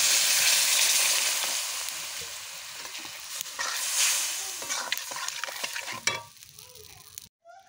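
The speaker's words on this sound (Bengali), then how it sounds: "এবার মশলাটাকে ভালো করে আমি কষে নেব।" A spice masala with turmeric fries in a pan while being stirred, a strong hiss that gradually softens, with scraping and tapping of the utensil near the end before it cuts off.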